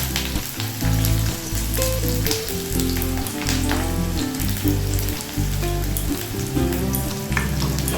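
Chopped onion and green chili sizzle in hot oil for a Bengali kochu loti dish, a continuous dense frying crackle with occasional stirring noises and a steady low hum underneath.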